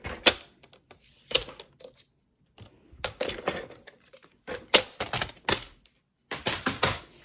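Paper trimmer cuts cardstock for a handmade greeting card, a series of quiet clicks, slides and thunks in irregular bursts with short pauses, close and without talk.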